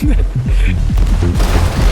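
Fire bombs burst against a ship in a pirate video game, a run of loud booming blasts with crackling fire spread across the stretch while someone talks excitedly over them.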